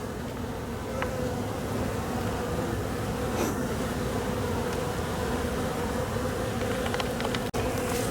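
A steady, close swarm of honeybees hums continuously around an open hive during a late-December inspection, the drone even and unbroken, with a few faint clicks and taps from handling.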